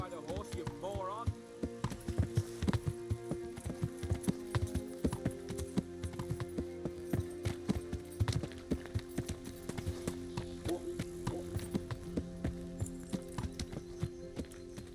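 Steady clip-clop of horse hooves trotting in the video game Kingdom Come: Deliverance, rhythmic and close, with a person talking over it and a brief whinny-like sound early on.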